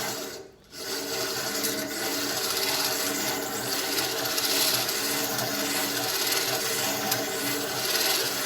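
A knife edge is drawn through the V groove of the stones on a vintage Speedo sharpener, making a steady, close, continuous rasping grind that runs almost unbroken after a brief pause near the start.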